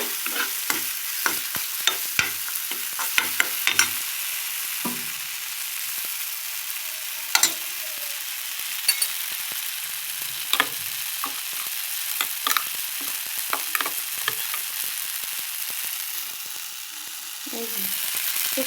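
Mustard paste ground with green chili, salt and turmeric fries in a pan as a spatula stirs and scrapes, a soft steady sizzle broken by irregular clicking scrapes, close and moderately quiet, with occasional talk.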